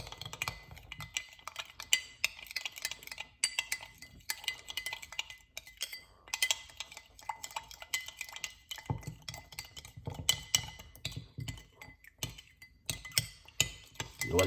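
A spoon stirring a cayenne pepper drink in a glass, with steady rapid clinks and scrapes against the glass going on throughout, close and fairly quiet.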